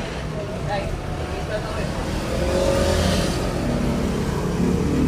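Yamaha NMAX V2 Y-Connect scooter engine running steadily at idle during an ISC cleaning routine, a continuous close mechanical hum that swells slightly in the second half, with a person talking over it.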